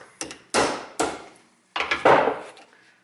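Hammer taps bending a broken rear trunk door hinge on a BMW touring model, four sharp close knocks with short decays, loosely spaced with a pause before the last.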